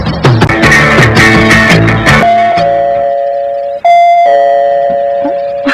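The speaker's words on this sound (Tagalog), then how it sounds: "Hala, may nag-doorbell na." A doorbell rings loud and close, a quick burst of electronic chime notes followed by two longer sustained tones that ring out and fade.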